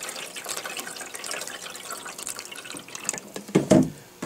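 Water poured to soak seed trays of pepper seedlings, a faint trickling and splashing that grows into a louder gush near the end.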